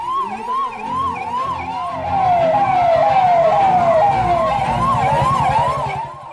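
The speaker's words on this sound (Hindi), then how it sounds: "पुलिस की गाड़ी से निकलने वाले सायरन की आवाज" A police car siren wails loudly nearby, its pitch sweeping up and down in a fast repeating cycle, with a rumbling vehicle engine beneath that grows louder midway.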